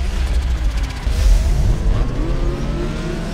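Car engines rev and drone at the start of a street race in Need for Speed Underground 2, a loud, continuous roar with rising engine tones toward the end and no talking.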